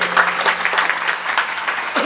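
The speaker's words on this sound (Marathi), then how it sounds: "म्हणून टाळी वाजवली पाहिजे" Listeners at a religious discourse clap together in a brief, lively burst of applause, close and fairly loud, with a faint voice underneath.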